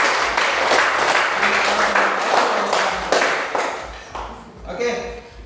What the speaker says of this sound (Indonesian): Tepuk tangan untuk pembawa kita dulu.